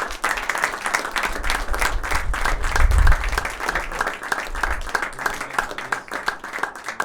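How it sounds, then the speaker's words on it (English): A talk audience at an armed forces para-snowsport team and golf academy event applauds steadily for several seconds, dense overlapping claps with a brief low thump in the middle. "I think you deserve a big round of applause."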